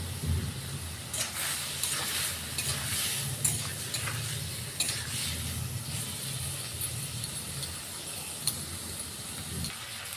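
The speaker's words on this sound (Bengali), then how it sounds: "ভালো করে আমরা চিংড়ি মাছগুলোকে লাল করে ভেজে নেব" Shrimp fry in a pan with turmeric and salt, giving a steady soft sizzle with intermittent scrapes and clinks of stirring, close and moderately quiet throughout.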